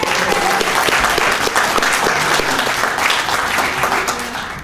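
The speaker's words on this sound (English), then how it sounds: "let's give these students another round of applause" An audience gives students a round of applause, a full, loud burst of clapping that holds steady and then begins to fade near the end.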